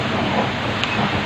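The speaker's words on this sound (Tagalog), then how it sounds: "And naririnig yung ubo ng hangin." Strong Typhoon Ulysses wind gusts roar steadily and loud during the storm in a residential community, a broad continuous rush with no talking.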